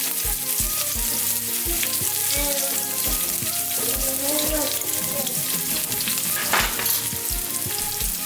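Garlic sizzles in a pan over a lowered flame as part of a lentil dish, a busy crackle broken by repeated clinks and scrapes of a utensil stirring, with no talk over it.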